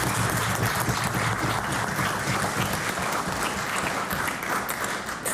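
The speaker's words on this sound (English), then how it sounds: "So if you could just give them the round of applause of the House." A full room of members in the House of Assembly gives a steady round of applause, dense and even clapping that fills the whole stretch without letting up.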